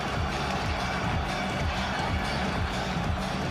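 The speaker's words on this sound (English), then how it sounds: "A fantastic crowd here." A packed boxing arena crowd on its feet at a Prince Naseem Hamed fight, a dense roaring wash of cheering and rhythmic low chanting, steady and distant, with a commentator's voice faintly underneath.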